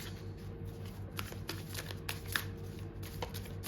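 Tarot cards are shuffled by hand in a quiet room, a soft, continuous riffle of card edges with small flicks and taps, faint and close.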